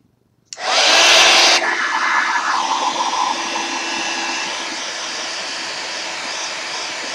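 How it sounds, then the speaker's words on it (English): A blower or heat tool switches on abruptly and roars steadily, drying paint splatters on a passport-size journal cover; loud and close, with a brief harsher burst at the start before settling into a constant whoosh. "I'm going to blow this and get those splatters dry"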